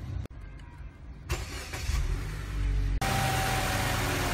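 A car engine is cranked over, catching at about three seconds and settling into a steady, loud idle during a battery charger test; earlier clicks and rising mechanical noise precede the start.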